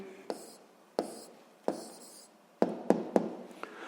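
A pen scratches and taps on paper, writing out an answer with a series of short, distinct strokes close by, quick taps bunched toward the end.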